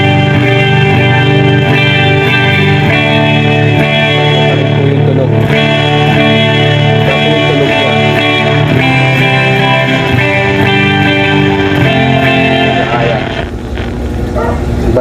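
An electric guitar played through a Bluetooth speaker used as an amplifier rings out in loud, distorted sustained chords with a chorus-like effect, filling the whole stretch before fading near the end.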